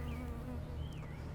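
Honey bees buzz steadily around a Langstroth hive, a continuous close drone with a few individual insects whining past at varying pitch, no voices present.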